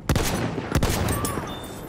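Gunfire from a gun in the Battlefield 1 video game: a few loud, close shots ring out over a dense background of distant battle noise and rumbling, with brief whistling tones.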